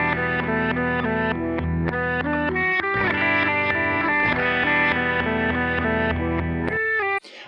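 An electric guitar recording with distortion played backwards, swelling reversed chords and notes that fade in and cut off abruptly, loud and continuous with no talking.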